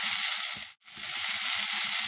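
Beans, carrot and cauliflower frying in a pan with tomato, ginger, garlic, coriander and mint for vegetable kurma, a steady close sizzle with soft stirring scrapes, briefly dropping to near silence midway before resuming.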